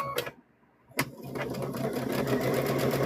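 A sewing machine stitches the foot of a stuffed bear, with a couple of sharp clicks and a brief lull before the motor settles into a steady, fast, close whirring hum.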